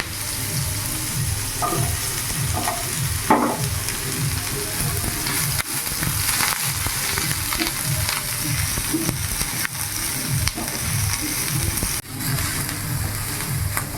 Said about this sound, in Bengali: এরই মধ্যে আমি একটা পেঁয়াজ কুচনো দিয়ে দেবো। তার সাথে কেটে রাখা বেগুনগুলোও ভেজে নেব।